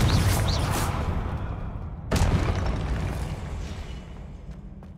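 Two Confringo spell explosions in the video game Hogwarts Legacy, each a heavy boom that blooms and slowly fades, the second striking about two seconds after the first.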